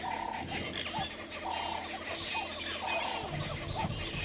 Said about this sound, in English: The birds are going ballistic.